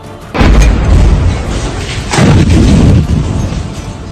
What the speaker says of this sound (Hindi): फिर पता चला कि यह धमाका खार्किव के पावर स्टेशन में हुआ।